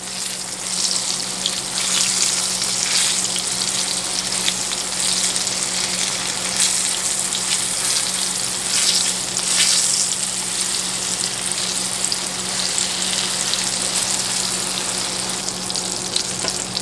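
Green tomato slices frying in hot grease in a pan, a dense, steady sizzle with crackling spatter that holds at a loud, even level throughout, close up and without talk.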